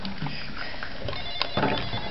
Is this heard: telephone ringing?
yes